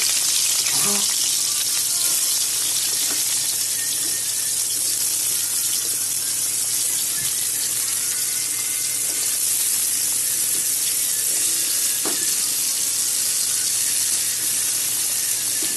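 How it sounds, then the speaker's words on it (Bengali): Squash, bitter gourd and potato fry in a pan with a dense, constant hiss that stays loud and even throughout, sounding much like running water, with only a few faint clinks beneath it. "এখন দেব এখানে কোয়াশ, ভাত করলা, আলু। এই সবজিগুলো ভেজে নেব।"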